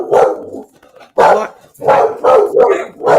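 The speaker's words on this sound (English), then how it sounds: "There goes the dog." A dog barks loudly and close by, a single bark followed by a burst of three or four quick barks, with a brief spoken word between them.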